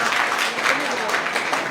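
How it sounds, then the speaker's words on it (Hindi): Classroom applause for a teacher at an English coaching class in Motihari: a dense, steady wash of clapping from a room full of students, loud and continuous throughout with no pauses. "एक बार जोरदार ताली बजाइए सर के।"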